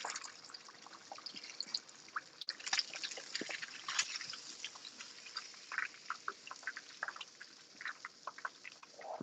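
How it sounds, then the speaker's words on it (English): Excess grease drips from freshly fried food onto a cooling rack set in a pan, with scattered faint ticks and droplets and a soft sizzle running steadily throughout. "I'm letting that excess grease drip out."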